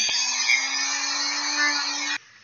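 A rotary sanding drum rounds the edges of foam armor pieces, a steady high whirring drone with a low tonal hum that runs continuously for about two seconds, then cuts off abruptly.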